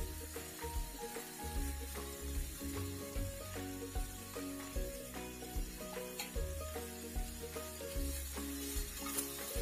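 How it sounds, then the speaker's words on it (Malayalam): Salt and turmeric are stirred in a frying pan for a jackfruit thoran, making a soft, quiet sizzle with brushing stir strokes under steady background music. "നന്നായിട്ട് ഇളക്കി കൊടുക്കാം."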